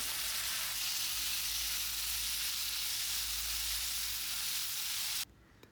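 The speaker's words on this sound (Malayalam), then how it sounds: "പിന്നെ ഇനി നമുക്ക് തക്കാളി നുറുക്കിയത് അത് ചേർക്കാം." Chopped tomatoes hiss loudly in a frying pan over green chillies and sliced onion, cooking down for a chicken curry; a steady, dense sizzle runs unbroken, then cuts off abruptly near the end.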